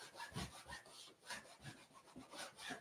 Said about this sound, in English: Today, we're just burnishing.